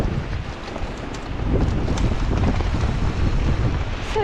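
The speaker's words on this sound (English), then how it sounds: "Wind is so strong, it's actually pushing my front wheel on the climb, like to one side." Strong gusting wind buffets the microphone while cycling a climb near Llandegla, a loud, rough, continuous roar that swells about a third of the way in and holds, with no talking.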